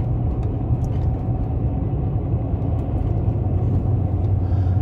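Steady, loud engine rumble and road roar of a bus climbing a road fast toward Cañón de Jimulco, a continuous drone with no break or voices.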